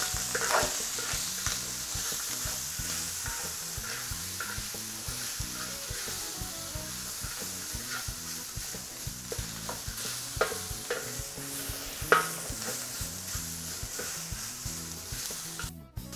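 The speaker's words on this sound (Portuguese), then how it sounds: "vamos dourar ela bem douradinha." Seasoned pork browns in a hot pan for a campeira-style paella, sizzling and spitting steadily at close range with occasional stirring scrapes and no talk, fairly soft throughout.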